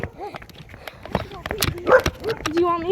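Dogs on a nature walk let out a few quick barks and yips, mixed in with close, continuous talking.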